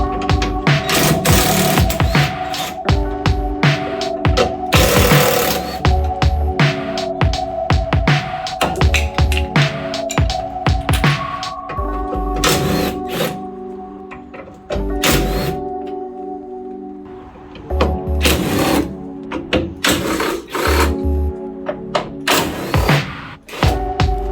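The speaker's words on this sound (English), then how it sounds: "it's just a case of undoing all the bolts that's holding the wing on" Bolts being undone to take the wing off a wrecked Audi S1, with loud close ratchet clicks in repeated bursts, metallic clunks and brief pauses between runs of tool noise.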